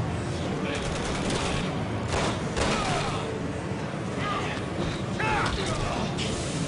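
Gunfire fills a Resident Evil 6 game demo featuring Jake: a dense, continuous wash of shots with repeated sharper bursts, loud and unbroken throughout.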